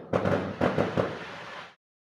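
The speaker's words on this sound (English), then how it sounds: "fireworks outside." Fireworks burst outdoors at a distance, four quick muffled booms in under a second followed by a fading rumble, heard with no talking.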